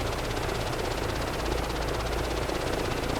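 A helicopter in Microsoft Flight Simulator 2024 flies over the Yas Marina circuit, its rotor and engine making a steady, pulsing drone that stays constant and fairly close, with no talk.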